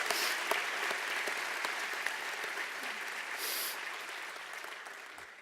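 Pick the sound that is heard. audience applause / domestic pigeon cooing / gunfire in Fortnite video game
audience applause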